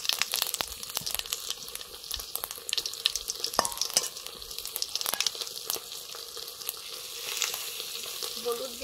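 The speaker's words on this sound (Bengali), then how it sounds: "ডালে ফোড়ন দিয়ে দেবো, সর্ষের তেল দিয়েছি কড়াইতে" Whole cumin and dried red chillies tempering in hot mustard oil in a kadai for dal, giving a steady, close crackling sizzle with scattered sharp pops and no talking.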